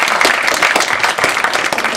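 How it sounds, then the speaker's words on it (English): A press-conference audience at an MMA event claps steadily in broadband applause that fills the whole moment, loud and close, with no talk over it. "So give her a round of applause"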